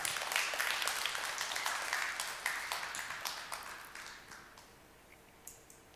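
A lecture audience claps after a talk about a Nobel Prize, a dense round of applause that starts strong, then thins and fades to a few scattered claps, with no talking over it.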